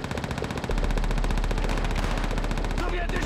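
Dense, continuous automatic gunfire from the video game Call of Duty: World at War during a Russian campaign sniper mission, loud and rapid throughout with heavy low rumble, tapering into scattered noise at the end.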